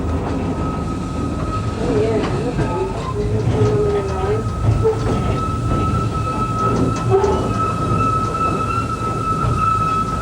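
A small garden railway train runs at Bicton Gardens in Devon, giving a steady rumble with a sustained whistle-like tone and scattered clicks, while people talk faintly in the background.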